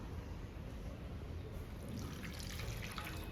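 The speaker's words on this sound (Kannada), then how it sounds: "ಮಿಡ್ಲ್ನಲ್ಲಿ ಗ್ಯಾಪ್ ಮಾಡ್ಕೊಂಡು ಇದರಲ್ಲಿ ನೀರು ಹಾಕಬೇಕು" Water pours steadily into a well in half a kilo of maida flour while mixing dough for coconut holige (obbattu), a soft continuous trickle and splash that grows a little brighter toward the end.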